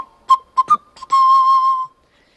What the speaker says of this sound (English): This little panpipe you hear when Simba sings,